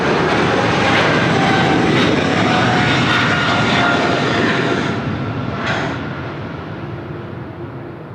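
A Japan Airlines airliner roars down the runway on takeoff from Sydney Airport, its engines making a loud, steady, broadband blast that fades slowly as the jet climbs away.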